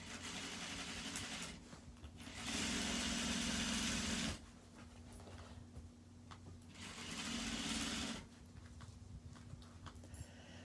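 A sewing machine runs two bursts of small stitches on an exterior seam, each a steady whirring hum of about two seconds, separated by quieter pauses.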